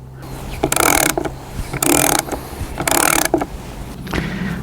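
A hand ratchet tightens bolts while a shed for a BBQ is being built. Three loud, close runs of rapid clicking are separated by brief pauses, with a fainter fourth burst near the end and no talk.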